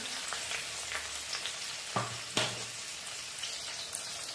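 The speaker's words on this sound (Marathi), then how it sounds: "तेल तापलेलं आहे, हिरवी मिरची टाकते, त्याच्यात कांदा टाकून घेते" Chopped onion and green chilies sizzle in hot oil for Schezwan fried rice, giving a steady, close crackle with a couple of sharp utensil knocks partway through.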